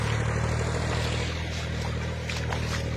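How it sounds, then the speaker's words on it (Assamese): A tractor's engine runs steadily and close by in a rural field, giving a continuous low droning rumble with no pauses throughout. "এইখন ট্ৰেক্টৰ পিছফালে"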